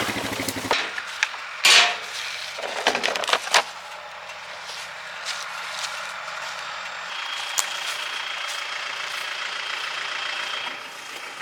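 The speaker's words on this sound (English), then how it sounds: "I gotta get the four-wheeler out of the way now." A four-wheeler engine idles steadily throughout, low and continuous, with a few sharp clanks and thumps near the start before settling into a constant hum.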